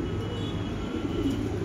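A strong racing pigeon coos softly and continuously, close by, with a low steady hum of the loft around it and no talking.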